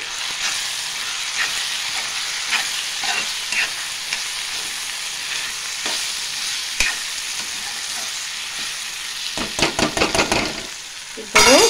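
Chana dal and ridge gourd curry fries and sizzles in a pan as chili powder is mixed in, a steady crackling hiss with sharp scrapes and stirring clatters growing busier near the end, close up, with no talking.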